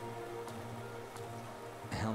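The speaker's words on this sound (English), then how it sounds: "what are you doing out in this miserable downpour?" Steady rain downpour hissing across the scene in the video game Hollow Knight, a constant even wash with soft game tones underneath and a brief swell near the end.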